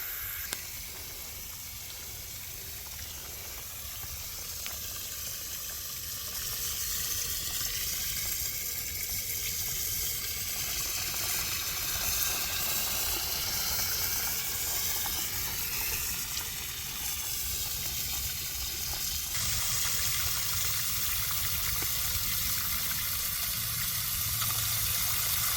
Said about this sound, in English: We're gonna go ahead on and fill this pond back up.